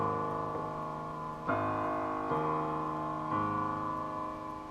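Sustained piano chords of the Fallout 4 theme played one after another with the left hand, each change struck softly and left to ring, with no voices present.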